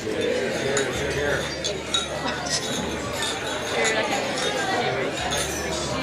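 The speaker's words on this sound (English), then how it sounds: "Please raise your glass while I toast Kim and Daren." Glasses clink repeatedly at a wedding reception toast, bright scattered chimes ringing out near and far over a murmuring crowd with people chattering.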